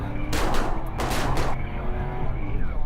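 Rapid bursts of gunfire ring out during a police car chase, two loud volleys of shots close together, over steady engine and road rumble with no talking.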